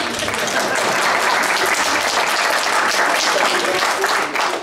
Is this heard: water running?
no